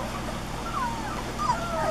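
Puppies whimper with a few faint, thin, high whines over steady background hiss, several short cries close together within two seconds.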